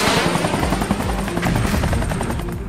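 Military helicopters fly overhead during an army exercise with paratroopers, producing a loud, steady rotor thump and engine roar throughout.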